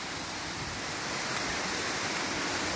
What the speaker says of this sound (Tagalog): So ito yung falls guys, na ito yung area ng Busay Falls